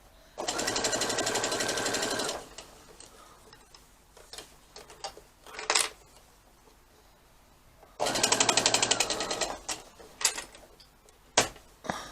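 A sewing machine stitches fabric pieces of a bucket hat in two loud, steady bursts of rapid clatter, with quieter handling noises and pauses between them.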